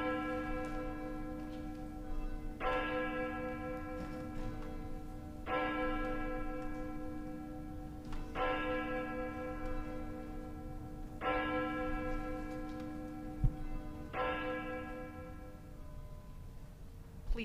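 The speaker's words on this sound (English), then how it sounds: "we listen to the tolling of our church bell" A church bell tolls steadily before a worship service, five or six slow, ringing strikes spaced about three seconds apart, each hum lingering before the next.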